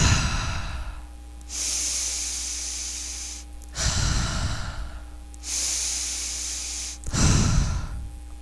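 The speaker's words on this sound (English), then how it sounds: "Breathe in through your nose and exhale through your mouth." Slow breaths taken in through the nose and let out through the mouth: two long, airy exhales and gentle rushing inhales in a steady cycle, close and fairly loud over a low background hum, with no talk.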